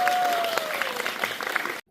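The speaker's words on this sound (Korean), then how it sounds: "박수 한번 부탁드리겠습니다." Cinema audience at a film screening Q&A with the director applauds steadily, a dense, sustained clapping that ends abruptly, with a faint tone fading underneath at the start.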